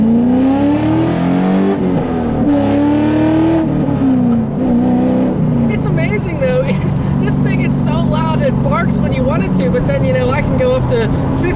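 2000 Chevrolet Camaro SS with a six-speed manual accelerating hard: a loud, close engine note climbing in pitch through each gear, with brief dips at the shifts and a busy rasp late in the run.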